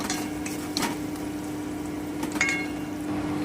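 Ginger paste and spices sautéing in oil in a pan for orange chicken, giving a steady close sizzle with occasional stirring scrapes and clinks, no talk.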